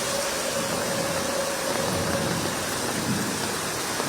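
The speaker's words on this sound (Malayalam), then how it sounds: "നല്ല മഴയാണ്. മഴയ്ക്കൊരു ശമനവുമില്ല. മണിക്കൂറുകളായി തുടരുന്ന മഴയാണ്." Heavy monsoon rain pours down in Kerala after hours of unbroken downpour, a dense, loud and constant hiss that fills the whole space.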